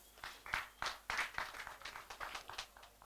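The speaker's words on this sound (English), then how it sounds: "Let's clap for our Papa." Sparse, uneven clapping from a small group at an annual general meeting, the claps broken into separate bursts that rise and fall across the moment, fairly faint and with no voices over them.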